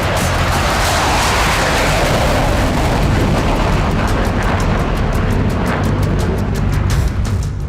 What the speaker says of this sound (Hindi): सुखोई 30 और सुखोई 57 जैसे लड़ाकू विमान